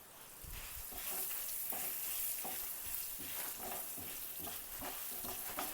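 Garlic, ginger and other lemon rice ingredients are stirred in a sizzling pan, giving a continuous bright frying hiss with repeated soft scraping strokes of the spoon, close by and steady.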